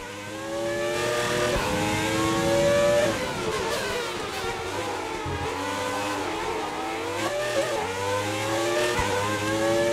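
A classic F1 racing car roars through a racing video game on the Baku street circuit, its engine whining high and steady with repeated pitch swoops as it shifts and revs, loud and continuous.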